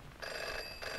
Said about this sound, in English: That's the phone, there is.